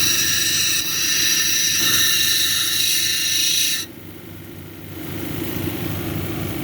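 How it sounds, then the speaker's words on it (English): A grinding wheel works a leopard skin jasper cabochon, giving a steady bright whirring hiss with a low motor hum underneath, then the high grinding tone drops away after about four seconds, leaving the lower machine drone running. "I'm going to have to grind off the whole bottom here to even that out."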